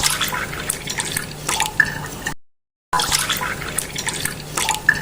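Milk poured in a cartoon kitchen scene, a steady liquid dripping and splashing at close range that cuts out briefly to silence and then resumes.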